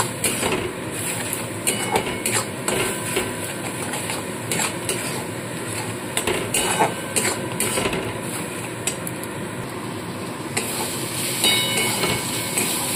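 Spice paste sizzles and fries in a pan while being stirred, a dense continuous crackle with repeated scraping and knocking strokes of the utensil, close and fairly loud throughout, no talking.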